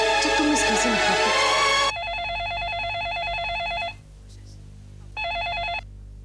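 A telephone rings in a household drama scene: after a loud burst of music, an electronic ring tone repeats steadily in pulsing tones, stops briefly, then sounds once more before cutting off, with no talking during it.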